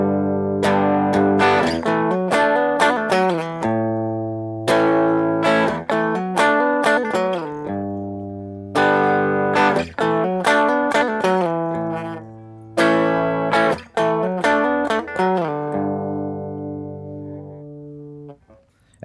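An electric guitar plays a part from a song as a solo line. Four repeated phrases of picked chords and notes ring out clearly, each separated by a brief pause, with no voice.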